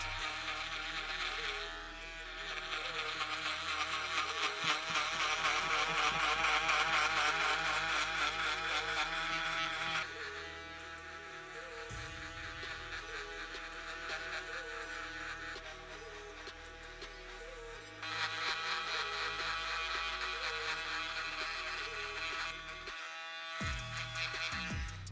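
Electric shavers cut a men's fade haircut at a barber's chair. A continuous, high-pitched motor buzz sounds close and steady for about twenty-five seconds, shifting in pitch and loudness as the blades move across the head, with no talk.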